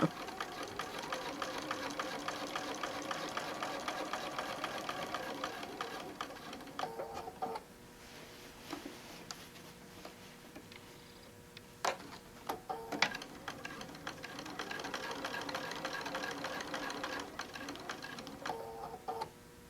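A domestic sewing machine stitches a quilt-as-you-go tote bag in steady, rapid mechanical runs, pausing briefly midway before resuming, close and clear.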